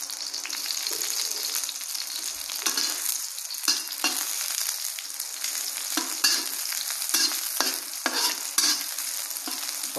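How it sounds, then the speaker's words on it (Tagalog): Onion and garlic fry in a pan under continuous sizzling while a utensil stirs them, scraping and clattering at an irregular pace close by, with no talking. "After ng bawang, halo niyo yung sibuyas guys."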